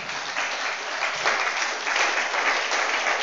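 A church congregation applauds together, a steady, dense wash of many hands clapping at moderate loudness that swells slightly toward the end, with no voices over it.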